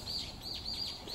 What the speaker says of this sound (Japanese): 小鳥の声を聞きながら